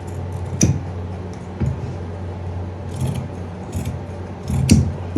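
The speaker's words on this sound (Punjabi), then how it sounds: "ਇਹ ਵਾਲੀ ਕਾਟ ਤੇ ਇਹ ਵਾਲਾ ਜਿਹੜਾ ਗਲੇ ਦੀ ਹੈ ਇਹ ਆਪਾਂ ਹੁਣ ਕੱਟ ਕਰ ਲਾਂਗੇ" Scissors snip through suit lining fabric at the neckline, giving several short crisp cuts spaced irregularly over steady low background hum, close and fairly clear.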